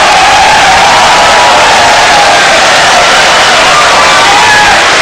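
An audience at a 2014 Indonesian presidential and vice-presidential debate makes a loud, continuous roar of crowd noise, cheering and applause, a dense wash that stays at full volume from start to finish.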